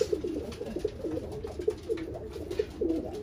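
Breeding pigeons coo in a loft in repeated soft, throaty phrases at a steady rhythm, close by, over a low background hum with no talking.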